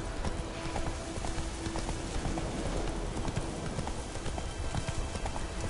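Horse hooves clip-clopping at a steady trot across rough countryside in the video game The Witcher 3, a continuous rhythmic clatter over dense game ambience.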